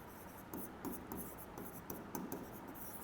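Chalk or marker scratches across a board during a maths lecture on quadratic equations, in short, faint repeated strokes against a quiet room hum, with no voice present.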